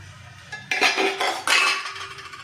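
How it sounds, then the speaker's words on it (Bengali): A metal lid lifted off a steamer pot of hot water while idli is being made, with two sharp clanks of metal on metal and a short ringing rattle in between. "আমি ঢাকাটা খুলে নিচ্ছি।"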